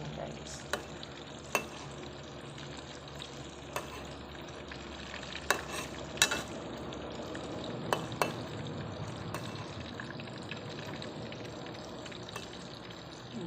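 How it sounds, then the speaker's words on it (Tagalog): Steady close-up sizzle of breaded fish fillet cubes frying, with occasional sharp crackles and pops, plus the scrape of stirring, continuing throughout without talk. "Ayan, prito na natin guys."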